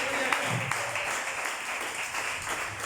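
A church congregation gives a steady round of applause, dense even clapping heard from a moderate distance, fairly faint and without a clear break.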